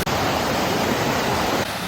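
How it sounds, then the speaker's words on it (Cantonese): A waterfall on the Oirase stream in Aomori, Japan, pours as a constant, even hiss of falling water, close and steady throughout, with no voices. "呢個瀑布咧真係超級靚啊！"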